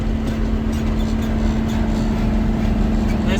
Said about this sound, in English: We're rolling.